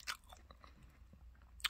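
Someone bites into a crispy salt bread roll, giving a sharp crunch at the start and another at the end, with soft, quiet chewing crackles in between. The sounds are close but faint, and nobody talks.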